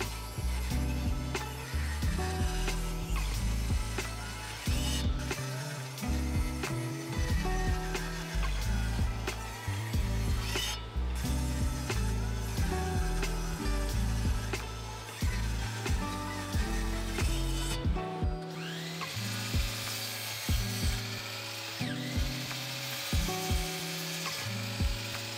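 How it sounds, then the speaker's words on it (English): Leftover red oak lumber being milled with woodworking power tools in a shop, loud repeated machine passes with pauses and restarts, no talking. "So I set about milling some leftover red oak for my TV stand project"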